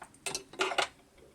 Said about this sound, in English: We'll take our scissors.